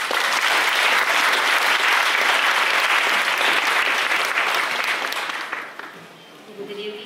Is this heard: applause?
yes